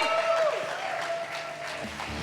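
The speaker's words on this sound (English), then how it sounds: "Give them a round of applause, guys." Audience applause at the trailer launch event for The Family Man season 3, a steady wash of clapping that holds through the short clip with a faint tone and some crowd noise underneath.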